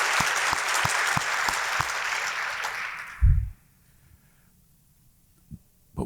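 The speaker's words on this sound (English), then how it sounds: "give them a round of applause" Applause from a conference audience at a closing plenary session, a dense burst of clapping for about three seconds that cuts off sharply, followed by near silence with a few faint thumps.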